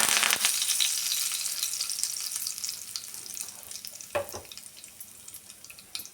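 Curry leaves hit hot oil for tempering a roasted brinjal gojju, bursting into a sharp sizzle at the start that settles into a quieter crackling fry with a brief clatter near the end.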